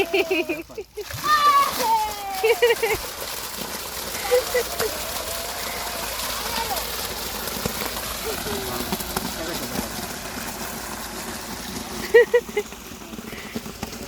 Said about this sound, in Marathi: पाणी चालू करा